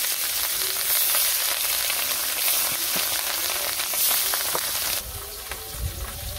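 Fish fries in hot oil, with mustard added for a sour curry, giving a loud, dense, close sizzle that crackles continuously before softening slightly near the end.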